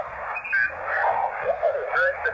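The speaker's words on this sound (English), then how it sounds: "see all this background noise I got here?" Background noise on an HF handheld radio tuned for low-power operation with a poor antenna: hissy, warbling static with garbled fragments and whistling tones, continuous and fairly loud throughout.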